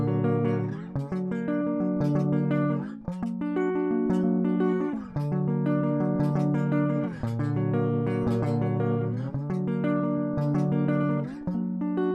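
Guitar plays chords on the bottom four strings, a steady strummed sequence of ringing chords with regular rhythmic changes, clear and alone, with no talking.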